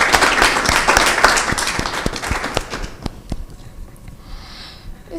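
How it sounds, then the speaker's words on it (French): Talk show studio audience applauding loudly, a dense burst of claps with a few sharper hand strikes that thins out and fades toward the end. "On applaudit en attendant."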